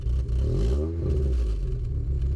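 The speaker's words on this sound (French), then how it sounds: "Le pot d'échappement. Il fait un de ces bruits." A Renault Clio Williams engine rumbles deeply through its exhaust and revs up briefly, a loud close throaty growl that settles back to idle.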